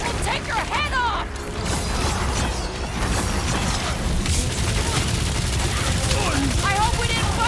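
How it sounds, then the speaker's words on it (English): Nova Corps cannon fire in the Guardians of the Galaxy video game, a dense, continuous barrage of blasts and booms mixed with game effects and voices talking throughout. "Those Nova Corps cannons will take your head off!"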